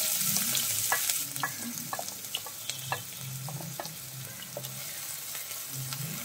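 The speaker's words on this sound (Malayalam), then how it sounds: "എണ്ണ ചൂടാവുമ്പോഴേക്കും നമുക്ക് അതിലേക്ക് 1 സവാള കൊത്തി അരിഞ്ഞത് ചേർത്ത് കൊടുക്കാം" Chopped onion sizzles steadily in hot oil in a pan for meen pollichathu, heard close up. Soft stirring clicks and scrapes break through the constant frying hiss.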